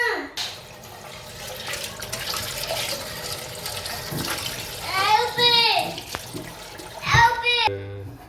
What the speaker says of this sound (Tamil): டீ போட்டு முடித்தோடனே அந்த பாத்திரத்தை கழுவி வச்சுக்கலாம்